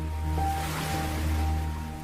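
Ocean waves washing in at the water's edge, a steady broad wash of surf that swells and eases without pause, with a low steady hum beneath it and no voices.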